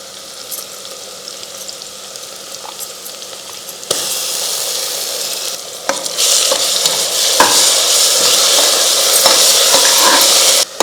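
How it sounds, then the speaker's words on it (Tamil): Ground masala with ginger garlic paste is stirred and fried in a pan over cooked onions for vegetable biryani. It starts as a soft sizzle, then becomes a loud, steady sizzle with scraping stirs from about four seconds on. "இஞ்சி பூண்டு அடி பிடிக்காத அளவுக்கு நல்லா கிண்டிகிட்டே இருக்கணும்."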